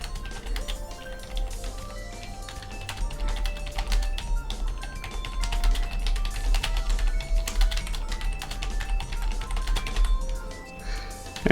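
Fast, steady clatter of keys on a computer keyboard, close and moderately loud, continuous tapping with irregular rhythm over a faint background hum.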